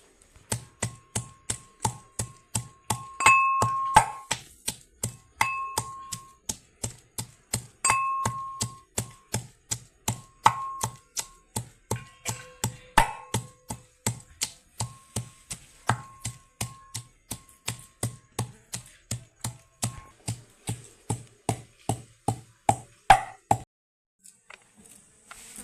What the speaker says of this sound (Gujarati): આદુ લસણ ને મરચાં નાખી દીધા છે। હવે ખાંડી નાખીએ આપણે